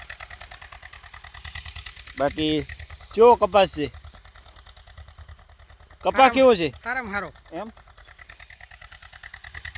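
A tractor engine idles with a low, steady throbbing in a cotton field, holding an even pulse in the background while someone speaks over it in two short bursts.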